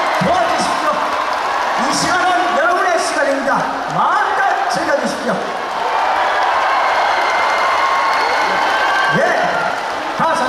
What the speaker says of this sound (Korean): 이렇게 크게 함성하시면서 박수 쳐주시고